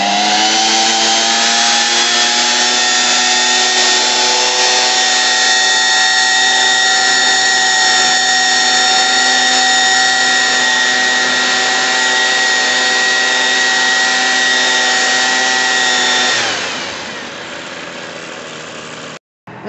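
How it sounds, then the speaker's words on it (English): A Ryobi jet fan blower attachment running at full power gives a loud, steady high-pitched motor whine with a constant rushing hum that holds for about sixteen seconds before spinning down. "not the most powerful blower I've ever had"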